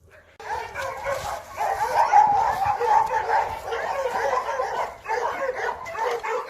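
Several Yakut hunting dogs at a kennel, bred for hunting hoofed game and bears, keep up a dense, continuous chorus of barks and yips, close and loud for several seconds.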